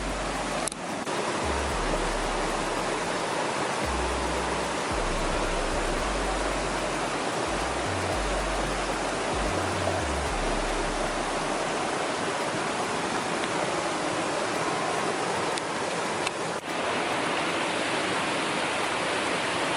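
A river on an off-grid farm in Jamaica rushes loudly and steadily, a dense unbroken wash of flowing water that fills the whole stretch with no voices.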